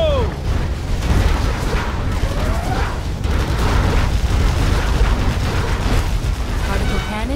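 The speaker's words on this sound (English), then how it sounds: "Particle cannon activated." In the Command & Conquer Generals Zero Hour strategy game, a particle cannon fires with a sustained, roaring, broadband blast mixed with rumbling explosions and whooshing effects, loud and dense for the whole stretch.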